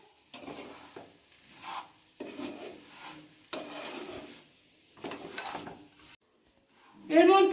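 Fried semolina scraped and stirred in a pan in short rubbing bursts with brief pauses, close and moderately loud, with a sharper clatter near the end.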